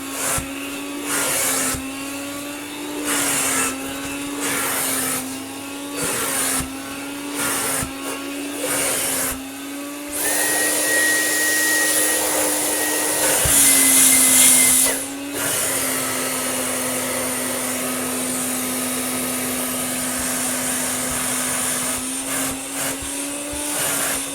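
A refurbished 1948 Hoover Dustette 100 and a Dyson V11 cordless vacuum run loud and steady, their whine holding throughout, with a noticeable shift in tone and power partway through as boost mode comes in.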